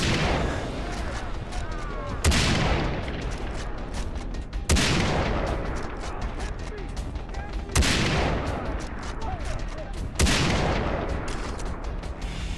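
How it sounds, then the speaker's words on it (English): High-powered sniper rifle shots in Far Cry 3, four heavy booming cracks spaced a couple of seconds apart, each trailing into a long reverberant decay, loud and close. "using a high-powered sniper rifle, I take out as many of their soldiers as I can possible to draw Vass out"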